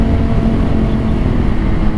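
A Honda CBR 600RR sport bike engine revs hard at about 8,000 RPM on a curvy country road, a loud, dense roar mixed with wind rumble, heard up close from the rider's position.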